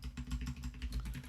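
Quick keystrokes on a computer keyboard, a rapid run of soft clicks over a low background hum, close and faint, with no talking.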